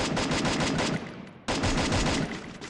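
Rapid automatic gunfire from an M4A1 rifle in Free Fire, two fast loud bursts close up, broken by a brief pause near the middle, with no talk over it.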